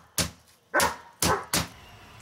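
A pet dog barks four times in quick succession, loud and close, with short gaps between the sharp barks.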